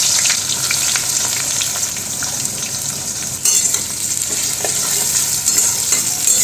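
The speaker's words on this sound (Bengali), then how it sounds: "দিয়ে পেঁয়াজগুলোকে আমরা একদম লাল করে ভেজে নেব।" Onions fry in hot oil with panch phoron, a loud continuous sizzle with stirring scrapes throughout, jumping briefly louder partway through as the pan is worked.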